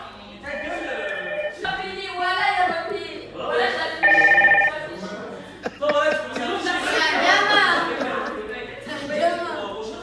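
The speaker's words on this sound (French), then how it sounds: "Ah, c'est ton bigot. Ouais, c'est mon téléphone." A mobile phone rings with a repeated tonal melody in a lively indoor group, heard under constant chatter and laughter from several people talking over it.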